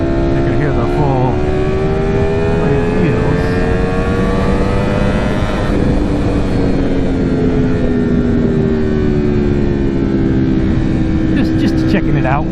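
A 2021 Ducati Streetfighter V4S with an Akrapovic exhaust runs steadily in the early morning, its loud engine tone rising and falling through gears, with someone talking over it.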